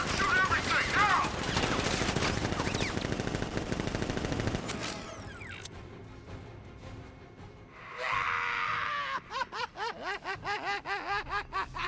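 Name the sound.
gunfire from a militia ambush in a video game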